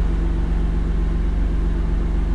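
An Alfa Romeo Giulia Quadrifoglio's 510 hp engine rumbles with its exhaust valve open, a loud steady low throb held close and constant, with no voices.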